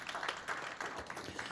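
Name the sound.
audience applause at a graduation ceremony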